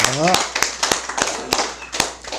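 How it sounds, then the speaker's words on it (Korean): Audience hands clap at a Buddhist special memorial dharma service, sharp separate claps in an uneven rhythm through a close hall, with a voice speaking briefly at the start. "다 함께 힘찬 박수를 보냅시다"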